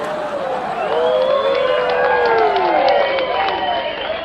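Staged crowd effect for an audio drama: a dense mass of voices laughing and shouting with scattered claps, swelling slightly and holding steady, loud and close throughout.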